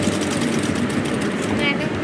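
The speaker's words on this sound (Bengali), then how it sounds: "আমি একটু এই মিডলে একটু সেলাই করে মাথাটা একটু আটকে দিই" A sewing machine runs a seam through the middle of a piece of fabric, giving a steady, close mechanical whir with rapid needle chatter that holds without pause.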